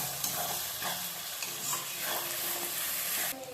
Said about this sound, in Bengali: এবার আদা রসুনের পেস্ট দিয়ে দিলাম। একটু ভালো করে কষিয়ে নেব